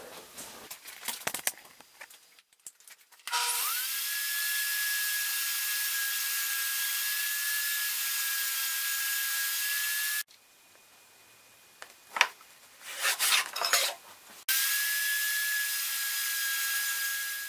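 A table saw cuts wood while building lathe cupboard sliding doors, with a loud steady whine through two long passes separated by a brief pause and shop clatter between.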